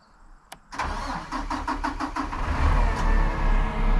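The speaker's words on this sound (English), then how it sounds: "I'll fire the truck up again." A BIK TC-106 grapple-saw truck's engine cranks briefly after a sharp click, then catches and settles into a steady, loud running rumble that builds slightly toward the end, with no talking.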